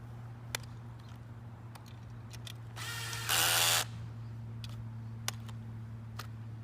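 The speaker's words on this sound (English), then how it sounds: "put our bolt back in and tighten it up really good and tight" A bolt is tightened on a cross piece during VX-3.0 assembly, heard as a single whirring burst of a power driver lasting about a second over a steady low hum, with a few faint clicks around it.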